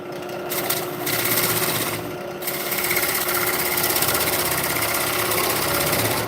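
A lathe tool shaves material off a spinning bolt, producing a steady, loud mechanical drone with a rapid rhythmic chatter that briefly dips twice before settling into continuous cutting.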